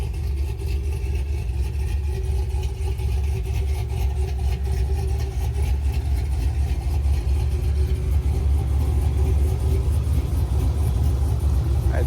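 Car engine fitted with a Black Widow exhaust, 3-inch inlet and outlet, idles with a deep, steady, throaty rumble close by, holding an even drone throughout.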